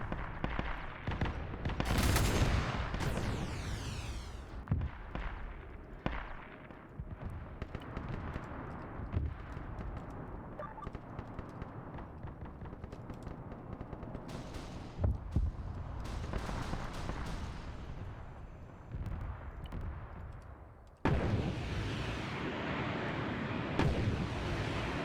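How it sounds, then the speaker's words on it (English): Mortar fire booms in a Warhammer 40K video game, a dense run of loud explosions and thuds rolling continuously, with a brief quieter gap before the barrage resumes. "having mortars pepper that entire area"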